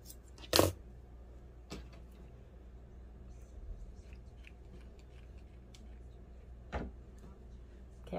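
Scissors cut through a glued arm on a handmade craft gnome. A few sharp, isolated snips sound close up, spread out over a quiet background.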